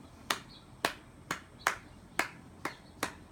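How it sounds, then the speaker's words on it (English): Seven sharp hand claps in a steady, evenly spaced rhythm, as used in Gullah church music, each a crisp close percussive smack with a brief tail over quiet background. "We use the clap."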